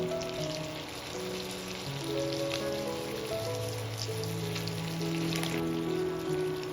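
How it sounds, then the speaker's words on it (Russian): Chicken pieces fry in a generous amount of butter, giving a steady, even sizzling crackle like light rain that runs throughout, with soft music in the background. "На щедром куске сливочного масла обжариваю курицу со всех сторон."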